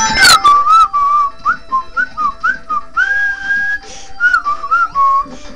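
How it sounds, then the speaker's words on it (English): A person whistles a wandering, bright tune in short rising and falling phrases over Sonic the Hedgehog 1 gameplay in Scrap Brain Zone, with faint game music and effects steady underneath. "Sorry about the whistling."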